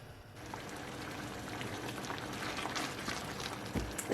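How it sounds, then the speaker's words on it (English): Beef in liquid simmers on a stove for a slow-cooked beef lasagne, giving a steady bubbling hiss that stays even and moderately close, with a soft knock near the end. "So our meat has been simmering on the stove for about an hour"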